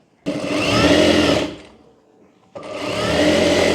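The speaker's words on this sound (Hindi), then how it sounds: "अब इसको उल्टा कर लेंगे और उसके बाद यहाँ पर सिलाई कर लेंगे।" A sewing machine stitches a sleeveless princess-cut blouse in two loud, close bursts of fast whirring, the first about a second and a half long, then a short pause before the motor runs again.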